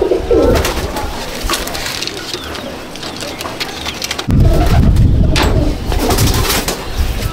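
Pigeons coo in a loft of fancy Teddy pigeons, soft repeated throaty calls close by over a steady background of noise that grows louder partway through.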